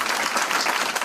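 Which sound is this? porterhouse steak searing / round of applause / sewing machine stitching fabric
round of applause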